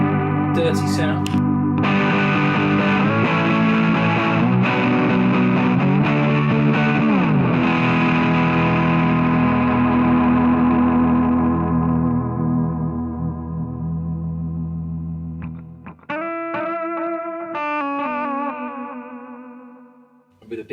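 Heavily distorted electric guitar chords ring out with echoing repeats and a swirling effect, sustaining loudly before a few brighter notes follow.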